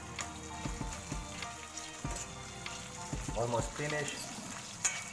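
Beef for bistek tagalog frying in a pan, a constant crackling sizzle with clinks of utensils, while a person speaks briefly over the cooking.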